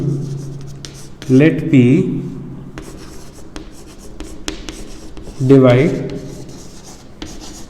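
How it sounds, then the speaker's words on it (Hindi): Pen or marker scratching across a board as a teacher writes out a coordinate geometry section formula, short strokes in two clear bursts close to the microphone while he keeps talking over them. "तो मैं यहाँ पे लिखता हूँ"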